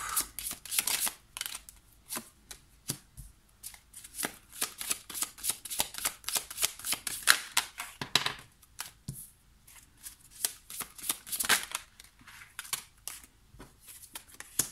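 Tarot cards are shuffled by hand in irregular rapid bursts of crisp papery riffling and flicking, quiet and close, pausing briefly between handfuls.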